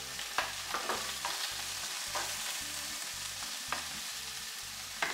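Onion sizzling in a frying pan with already browned meat, a steady close crackle and hiss with repeated scraping stirs of a utensil, no talk.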